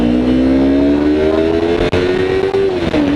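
A 2015 Yamaha R3 320cc motorcycle engine revs loudly and steadily, pitch climbing toward redline and then dropping slightly near the end, close and sustained with no talking.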